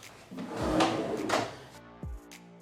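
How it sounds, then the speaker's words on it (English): A drawer running on undermount slides in a coffee bar cabinet slides with a smooth rolling rush, then shuts with a soft thump near the end, close and fairly loud with no talk. "I like the undermount drawer slides."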